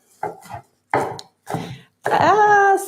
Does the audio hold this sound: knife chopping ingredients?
yes